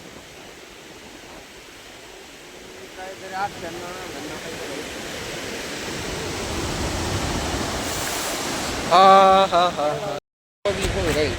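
Overflowing reservoir water at Nathsagar dam near Paithan rushes steadily over a crossway bridge, a loud broad roar that builds and persists under brief voices talking nearby.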